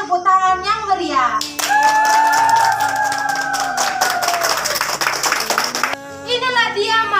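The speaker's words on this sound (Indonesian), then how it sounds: "Mari kita berikan tepuk tangan yang meriah." Clapping rings out at a university graduation ceremony, a burst of applause that starts abruptly and holds for several seconds, with music and sustained tones playing over and around it.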